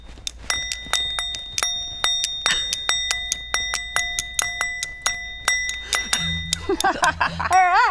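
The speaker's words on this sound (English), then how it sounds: "I could add a little singing bowl. And we got, I got a mini one." A mini singing bowl tapped repeatedly in a steady rhythm, each strike ringing with a clear sustained tone, close and bright, with a brief shift toward the end.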